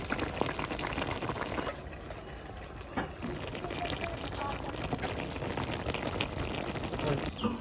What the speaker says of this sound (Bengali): তরকারিটা ফুটে গেছে, এখন আমি বড়াগুলো দিয়ে দিচ্ছি।